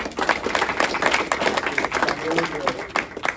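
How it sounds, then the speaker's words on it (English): Audience applause at a DC Public Schools math competition hosted at Google, a steady dense patter of many hands clapping that holds for several seconds without a break. "Let's give JL another round of applause for that."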